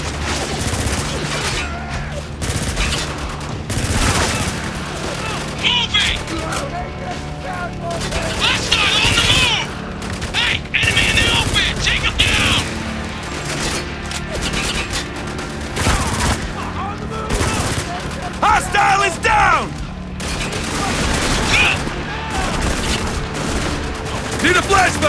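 Heavy, sustained gunfire from a firefight in the video game Spec Ops: The Line, with dense overlapping bursts and shots throughout, loud and close, while voices shout now and then over the battle.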